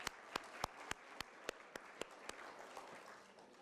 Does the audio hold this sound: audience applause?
yes